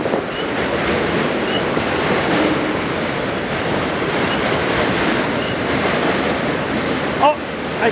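Eastbound freight train with auto racks rolling past, a close continuous rumble with rhythmic clickety-clack of wheels on rail joints and a few sharp squeals near the end.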